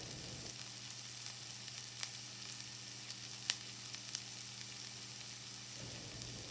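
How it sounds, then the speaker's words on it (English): Onions and sweet peppers sizzle steadily in a frying pan, a soft continuous crackle with a few small pops, no voices. "Been cooking these onions for about 4 minutes. They're starting to soften up. I think we should add the peppers."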